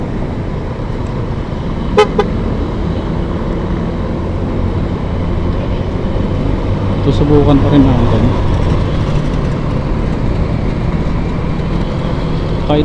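Road traffic and wind rumble past a moving vehicle at nearly 50, recorded through an Ausek S60 TR action camera with an external mic. The noise is a continuous low roar with a brief horn toot, and someone talks over it.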